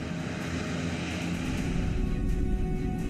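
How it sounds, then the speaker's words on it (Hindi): Military fighter jets flying overhead during an army drill, a steady loud roaring engine drone that holds constant throughout with no voices. "आसमान में फाइटर जेट मंडरा रहे हैं"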